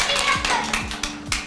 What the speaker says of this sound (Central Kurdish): ئافرین هەر بژی یەک چەپڵەی بۆ لێن دەست